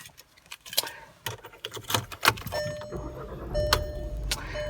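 A 2017 Volkswagen Golf GTI S is started from inside the car. Door and key clatter come first, then the engine catches with a low rumble that settles into a steady idle near the microphone.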